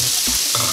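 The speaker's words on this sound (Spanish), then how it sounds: "Y ahora sí, camarones al sartén." Shrimp sizzle and crackle in a hot pan with garlic, chile and onion while being stirred, a loud close frying hiss broken by brief scraping stir sounds, no talking.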